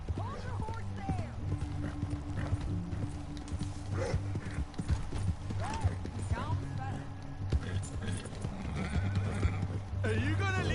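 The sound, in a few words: horse hooves clip-clopping and neighing in video game Red Dead Redemption 2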